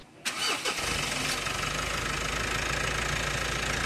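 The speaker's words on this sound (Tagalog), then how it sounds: "Start ko na nga itong makina" A Mitsubishi Montero engine cranks briefly and catches, then settles into a steady, close idle that runs alone without any voices.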